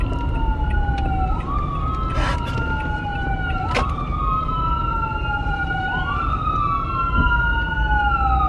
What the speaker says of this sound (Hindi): एम्बुलेंस आ रही है एम्बुलेंस